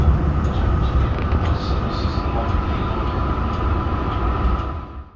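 A Yarra Trams B2 class tram, in service since 1987, rumbles steadily along its track in Melbourne, a loud continuous low drone with a faint hum that holds for several seconds before easing off at the end.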